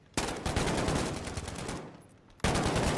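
Sustained automatic gunfire from a mounted weapon in Modern Warfare Infected, a loud rapid burst running for about two seconds, tapering briefly, then resuming abruptly at full intensity.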